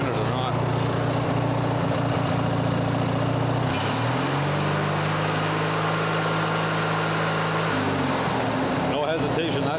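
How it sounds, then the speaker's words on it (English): A Craftsman riding mower with water in its fuel idles steadily and loudly close by; the engine note drops to a lower, steady hum partway through, then climbs back up near the end. "Your air filter changes the tune of the engine."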